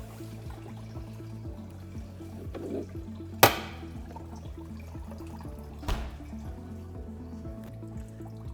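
An Electro Freeze pressurized soft-serve machine drains liquid in a soft, steady trickle over a constant low mechanical hum, broken by two sharp clunks.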